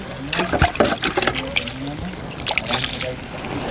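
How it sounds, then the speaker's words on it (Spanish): A tomato is rinsed under running water in a home kitchen, with irregular splashing and trickling close by, alongside a person's voice. "Vamos a enjuagarlo con agua."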